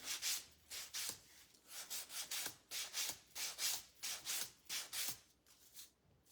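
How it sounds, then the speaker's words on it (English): A small wooden piece from a DIY corner chair picture kit is sanded by hand in quick, rhythmic back-and-forth strokes, soft and close, about fifteen rasping passes with no talking. "I'm gonna sand this as a little bit more."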